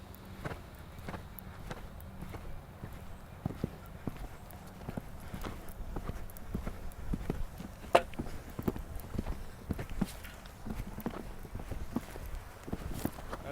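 Steady clip-clop of horse hooves, a regular walking rhythm of sharp knocks on firm ground, fairly close and continuous with no voices.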